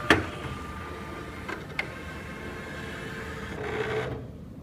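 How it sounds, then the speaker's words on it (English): The embroidery arm of a Husqvarna Viking Creative Sensation Pro sewing machine calibrates with a mechanical whir and motor hum, a few sharp clicks early on and a swelling slide before it stops, heard close and alone. "let the embroidery arm do its thing"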